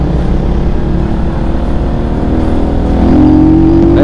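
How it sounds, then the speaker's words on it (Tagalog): Rusi Flash 150X fuel-injected motorcycle exhaust pipe droning steadily and loudly during a ride, engine note holding through, then rising into a louder rev toward the end. "At ako pinatutuwa dun sa tunog ng kanyang pipe"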